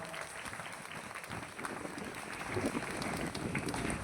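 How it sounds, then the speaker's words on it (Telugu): Audience applause at a jubilee thanksgiving event, a dense steady patter of many hands clapping that holds for about four seconds and swells slightly toward the end, with faint crowd noise underneath. "గట్టిగా చప్పట్లు కొడదాం."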